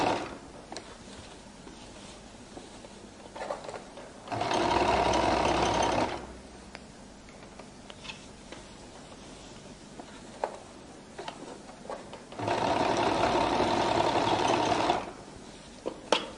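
A sewing machine top stitches along the waistline of a flared skirt in two steady runs of about two seconds each, humming close and loud, with quiet handling between them.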